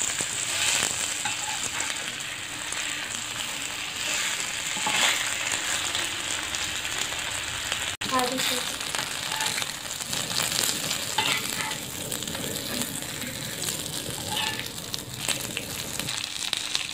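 Pomfret fish frying in oil in a pan, a steady loud sizzle with crackling and spatter that runs throughout, with a brief clatter near the middle.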